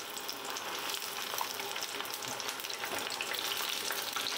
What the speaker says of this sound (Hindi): मीडियम फ्लेम में 3 से 4 मिनट के लिए फ्राई करेंगे